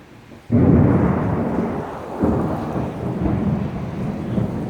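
A sudden thunderstorm in Green Valley, Arizona: a loud, close thunderclap bursts in abruptly, followed by a second rolling surge, with a steady wash of rain throughout.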